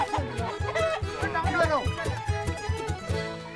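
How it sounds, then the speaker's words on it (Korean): Chickens cluck and squawk in agitated bursts in a Nepal mountain village as several men chase one down, close and lively, with voices talking and shouting over the flurry. "닭 한 마리를 잡기 위해 장정 8명이 나섰는데요"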